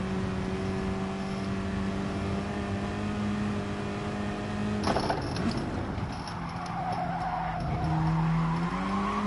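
Car drifting with sustained tire skid and squeal in Gran Turismo Sport, a steady engine drone with a sharper screech burst midway, then renewed revving and sliding, loud and continuous with no talk.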